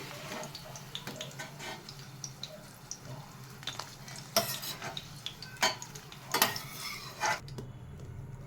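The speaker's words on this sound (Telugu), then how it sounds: "ఇప్పుడు వేగినాయండి కరివేపాకు, పచ్చిమిరపకాయ." Curry leaves and green chilies fry in hot oil with a steady low sizzle, broken by several sharp spatula scrapes and clinks against the pan, no voices.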